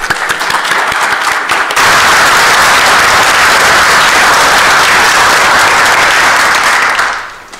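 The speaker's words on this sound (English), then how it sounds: "let's give the crew a round of applause anyway" An audience applauds the crew, a sustained wall of dense clapping that starts loud, swells slightly after a couple of seconds, holds steady and then fades out near the end, with no talking over it.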